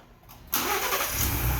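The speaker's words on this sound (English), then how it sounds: "We have the car running." Remote-started 2023 Ford Bronco, its engine cranking to life after a quiet moment, then settling into a steady, close idle.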